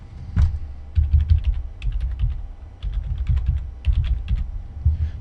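Keys clatter on a computer keyboard in a steady run of quick, close taps with a few short pauses, with no talking.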